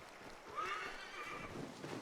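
A horse neighs in Assassin's Creed III Remastered, a bright whinny rising over steady game ambience, with soft hoof clatter underneath throughout.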